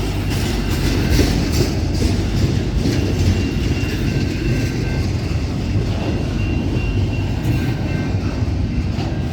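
A CSX freight train rolls past nearby and slows toward a stop, giving a steady heavy rumble with faint wheel clatter throughout and no voices.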